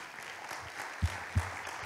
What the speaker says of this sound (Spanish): Date un aplauso ahí.